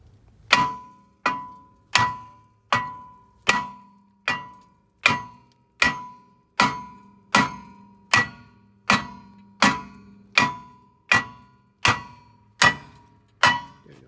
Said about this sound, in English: I need a freaking hammer to get this out